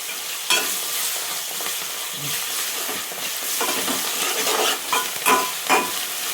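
Mutton sizzles and fries with ginger garlic paste in a pan, a steady close hiss broken by scraping stirs and a few sharper spits, with no one talking.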